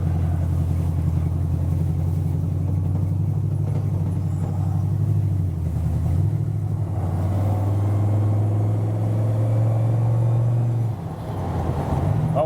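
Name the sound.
1951 Chevrolet V8 pickup truck driving on the freeway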